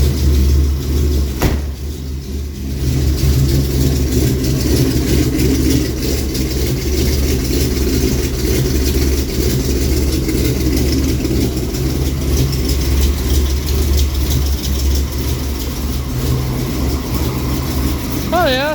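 A car with TerminatorX and Sniper EFI idles steadily after a cold start in sub-zero weather, with a loud, low engine rumble running throughout and people talking over it.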